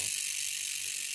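Rapid, steady ratchet clicking from a Retro Spec bearing hub's freehub on a bicycle as the wheel spins, a continuous bright buzz of pawl clicks close up, with no talking.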